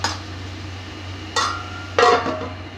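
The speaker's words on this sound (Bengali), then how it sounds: "এবার আমি এটাকে ঢাকা দিয়ে দেব।" A lid goes onto a cooking pot with two metallic clanks, a lighter tap and then a fuller clink of metal on metal, close by over a steady low hum from the kitchen.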